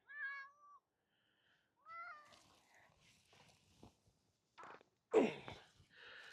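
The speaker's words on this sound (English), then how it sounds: "So this is my cat" A cat meows twice, a long rising call then a second one, followed by rustling and soft handling noises close by.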